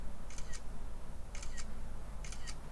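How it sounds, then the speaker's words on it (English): Three crisp iPhone camera shutter clicks, each a quick double snap, spaced about a second apart over a low background hiss. "we can hear that shutter sound"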